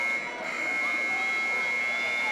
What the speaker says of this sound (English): The buzzer getting stuck a little bit.